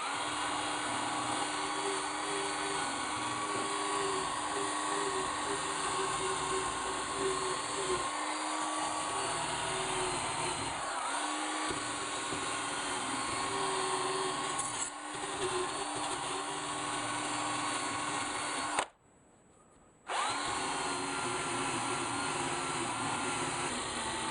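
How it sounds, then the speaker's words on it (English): A wire wheel whirs steadily as it scrubs rust, carbon and gasket residue off Yamaha XS650 valves. The hum is fairly quiet and continuous, with a short dropout near the end. "so get your trusty wire wheel"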